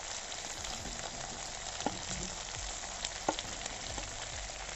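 Chilli pork with capsicum frying over a medium flame, a constant close sizzle with occasional spatula scrapes and clinks as the pieces are stirred, no voices.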